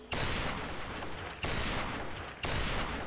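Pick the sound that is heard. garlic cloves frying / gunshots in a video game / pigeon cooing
gunshots in a video game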